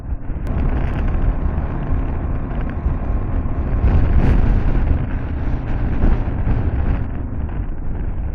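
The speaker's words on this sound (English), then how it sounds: "it's a little windy today" Steady, loud wind roars across grass, dust and moving trees in a national forest, a constant broadband rush with gusts swelling near the middle, buffeting the microphone, with no talking.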